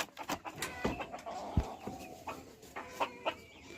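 Hens clucking inside a coop, a scatter of short, close clucks and squawks repeating irregularly, with one sharp louder call and a few overlapping bird voices, no talk.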